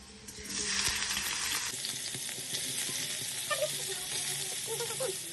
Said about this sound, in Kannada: ಆ್ಯಂಡ್ ಈಗ ಪನ್ನೀರ್ ಫ್ರೈ ಮಾಡ್ಕೊಳತ್ತೀವಿ